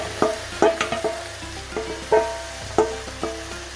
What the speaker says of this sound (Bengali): আমি ম্যারিনেট করে রাখা মাংসগুলো এতে ঢেলে দিচ্ছি।